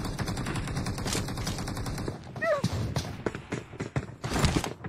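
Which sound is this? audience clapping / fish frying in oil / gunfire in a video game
gunfire in a video game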